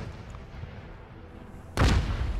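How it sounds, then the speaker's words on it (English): A cannon fires in the Arma 3 video game during a Revolutionary War–era Bunker Hill battle scenario: one sudden loud boom after a stretch of low rumbling game ambience, its blast sustaining to the end. "We just heard a cannon fire."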